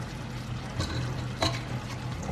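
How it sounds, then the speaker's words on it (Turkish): Spaghetti tipped from the cooking pot with its water into a mustard and red wine meat sauce, giving a wet stirring sizzle with two brief splashy bursts close up. "Şimdi bu makarnaları suyunu süzmeden tenceremizden sosun içerisine her zaman olduğu gibi aktarıyoruz."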